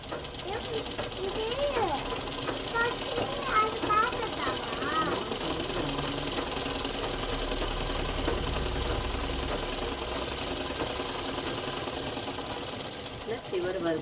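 A sewing machine runs steadily as it stitches a seam on a crop top through to the end, its rapid mechanical chatter continuing under a voice speaking throughout.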